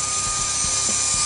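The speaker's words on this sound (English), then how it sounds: "I have the 170G Edge Series 3/8-inch drive ratchet." Ingersoll Rand 170G Edge Series 3/8-inch drive air ratchet running steadily with a high whine and rapid clicking while removing a shock and spring from vehicle suspension, close and alone.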